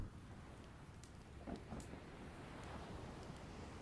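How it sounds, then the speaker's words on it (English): Ambient rain blends with ocean waves in a soundscape, a continuous soft hiss of rainfall over a low wash of surf, with a few faint patters standing out. "I added a bit more rain. Let's lessen the waves."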